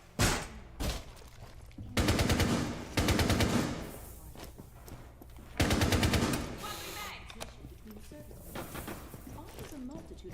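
Bursts of automatic gunfire in Rainbow Six Siege multiplayer, several loud rapid volleys separated by short pauses, then quieter scattered activity.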